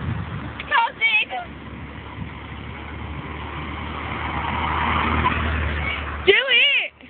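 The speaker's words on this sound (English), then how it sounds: "here comes the car" A car approaches on a road and passes with a rising, then fading tire-and-engine whoosh, while excited voices shout briefly before and after.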